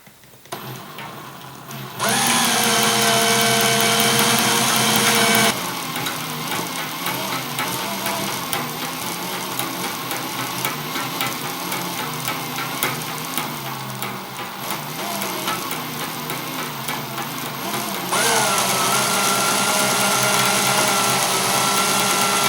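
A homemade motorized winder twists wire for a fused Clapton coil, a steady mechanical whir with a rattling, sewing-machine-like texture running continuously and close, stepping louder after a couple of seconds and shifting tone near the end.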